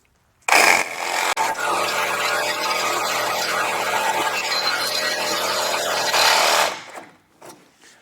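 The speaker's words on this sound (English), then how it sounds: "It really isn't bogging down this little M12 even trying to cut through there." A Milwaukee M12 compact Sawzall cutting through a stuck Ram lower control arm or strut bolt, a loud, harsh, continuous buzzing rasp close by for about six seconds before it stops.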